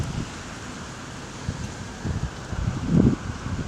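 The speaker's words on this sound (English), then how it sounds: "It's a cool, brisk, beautiful, breezy day in DC." Wind blowing on a cool, breezy day outdoors in DC gives a soft, steady rushing noise with low gusty rumbles against the microphone, louder in one surge near the end.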